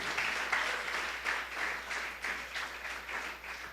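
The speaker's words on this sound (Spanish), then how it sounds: "démosle un fuerte aplauso al Señor" A church congregation applauds during a Spanish-language worship service, a fairly soft, steady wash of many hands clapping that holds throughout with slight swells.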